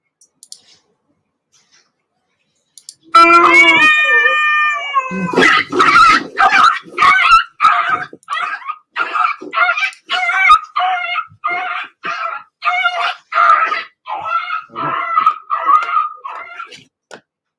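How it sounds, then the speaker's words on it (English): Dogs start with a rising, wavering howl and then break into a long run of loud, close barks, repeated in a steady rhythm with short gaps between them. "Stop buying these useless dogs."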